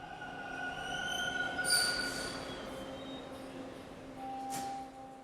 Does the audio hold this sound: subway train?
yes